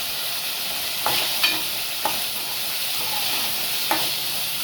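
Onion and tomato fry in a pan with a steady, close sizzle, and a few sharp scrapes of stirring cut through it, all with no one talking.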